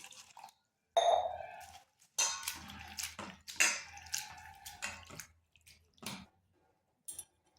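Flattened rice (chira) is rinsed with water in a bowl, producing short intermittent bursts of splashing and sloshing with quiet gaps between, close and fairly soft.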